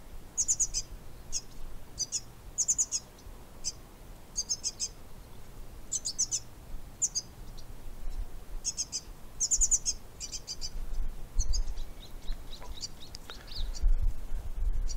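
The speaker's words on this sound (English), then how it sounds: "I think the bird's got something to say." Garden bird chirping and singing in repeated bright bursts of short tweets, moderately close, with quiet background hum and no talk.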